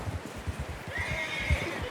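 A horse in Red Dead Redemption 2 whinnies once, high and drawn out, over a steady rhythmic thud of hooves.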